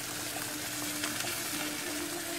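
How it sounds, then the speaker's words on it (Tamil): Fish sizzles steadily in a pan while being fried to go with an earthen-pot fish curry, a continuous close hiss and crackle of hot oil with no pauses. "ஃபிஷ் ஃப்ரையாக நான் மாற்றி போட்டாச்சு. இப்போ அடுத்த சைடு வெந்துட்டுருக்குது."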